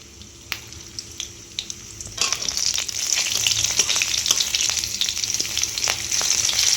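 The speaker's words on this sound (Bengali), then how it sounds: "ওই তেলের মধ্যেই আমি 2টো চেরা কাঁচা লঙ্কা, একটা তেজপাতা আর কালো জিরেটা দিয়ে দেব।" Slit green chillies, a bay leaf and black cumin dropped into hot oil left from frying, in a home kitchen: a few soft clicks, then a loud, steady close sizzle that continues to the end.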